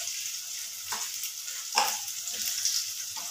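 Onions fry in oil with a soft, even hiss, punctuated by a few quiet scrapes of stirring.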